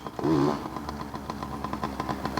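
A Yamaha PW80 dirt bike with effective mods ridden at speed during a speed test, its small two-stroke engine buzzing steadily at a distance with a brief louder rise at the start.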